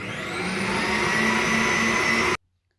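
An electric whisk beats egg whites and granulated sugar toward soft peaks, a steady close motor whir with no talk, running evenly for about two seconds before cutting off abruptly into silence.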